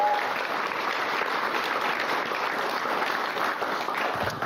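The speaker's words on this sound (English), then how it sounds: "So, huge round of applause for them." Steady applause from an audience at a guide dog school graduation ceremony, a continuous moderately loud patter of many hands with no talk over it.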